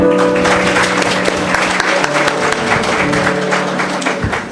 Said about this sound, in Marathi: पुन्हा एकदा जोरदार टाळ्या.